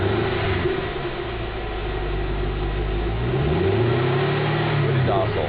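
A 2010 Camaro with its stock exhaust system idles with a low, steady rumble, then gets a couple of throttle blips that push a brief rising rev before it settles again.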